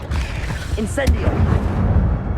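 Incendio fire spell cast in a Harry Potter video game: a sudden burst around the middle, a whooshing flare with a low rumble that trails off under continuous game noise and voice.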